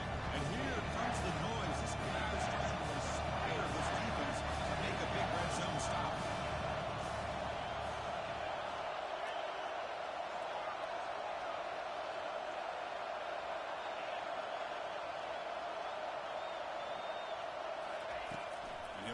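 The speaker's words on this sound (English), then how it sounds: "And here comes the noise. This crowd is trying to inspire this defense to make a big red zone stop." Football stadium crowd at a UCLA game roaring on third down in the red zone, urging the defense on: a dense, sustained wash of cheering and whooping, loud and steady throughout, with the low rumble easing after the first several seconds.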